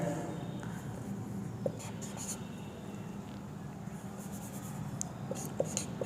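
Pen scratching on paper during a Hindi maths lesson on percentages and simplest fractions, a faint, continuous writing rustle with a few soft taps, close and alone.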